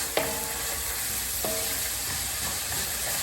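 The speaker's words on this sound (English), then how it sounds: "I want to maintain a good sear going" Peppers sear in a hot pan, giving a constant close sizzle and hiss, broken by a few sharp scraping clicks as the pan is stirred.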